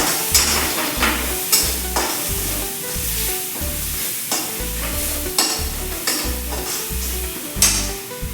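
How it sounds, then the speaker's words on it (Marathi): Turmeric sautéing in a pan for a village-style cluster bean (gavar) vegetable with green chilli and garlic: steady close sizzle under a regular rhythm of spoon strokes scraping the pan, with no talking. "थोडीशी हळद घालायची आहे छान छानपैकी अशी परतून घ्यायची"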